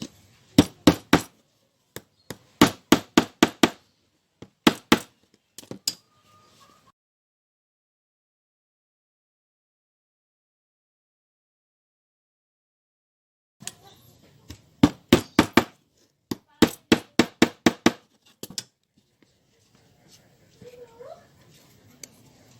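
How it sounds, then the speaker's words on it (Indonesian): Hammer tapping nails into a miniature BB 202 locomotive model part, heard as two bursts of quick sharp taps in short rhythmic groups separated by a long silent gap, close and fairly loud. "Silakan teman-teman bisa siapkan palu dan juga paku kacanya ya."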